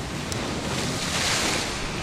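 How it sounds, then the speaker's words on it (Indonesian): Ocean waves at a beach near Padang Bay, a continuous loud wash of surf mixed with wind rumbling across the microphone, with no talking. "Aku lagi di pantai"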